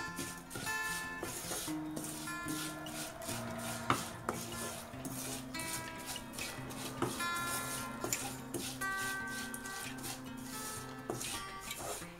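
A spoon stirs spices and vinegar together in a bowl for a raw mango pickle (kadumanga achar), giving steady clinks and scrapes against a backdrop of soft music.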